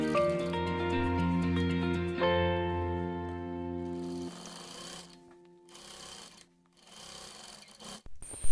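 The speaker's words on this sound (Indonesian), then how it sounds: "Kemudian kita jahit bagian bahu dan sisi, baik pada bahan utama maupun pada lapisannya." A sewing machine stitches the shoulder and side seams of a jacket and its lining, its motor whirring in a continuous stretch and then in shorter runs with brief pauses, after a tonal, music-like opening.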